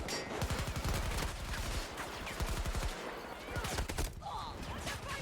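Gunfire in the video game Battlefield 2042 rattles in rapid automatic bursts, several separate volleys of machine-gun fire in a row, loud and close amid busy battle noise.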